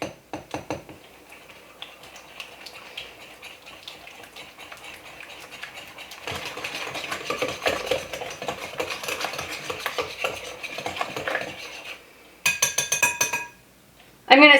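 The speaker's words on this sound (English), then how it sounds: "So 3 eggs in there, give it a really good mix." Spoon scraping and clinking rhythmically against a bowl while eggs are mixed into a peanut butter and quinoa batter, steady stirring that grows busier midway, ending with a few sharper knocks; no talking.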